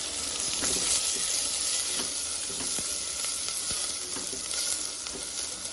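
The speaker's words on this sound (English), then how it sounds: "Once that is fluttering, I'll add the onion. And I'll give it a quick mix." Chopped onion sizzles in hot oil tempered with asafoetida, a dense continuous hiss close by, with faint scrapes and taps as it is stirred; nobody speaks.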